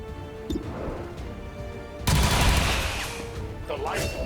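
Gunfire in the turn-based video game XCOM 2, a sudden loud burst of shots and impact crashes after a quieter stretch, with a voice talking in the game's background.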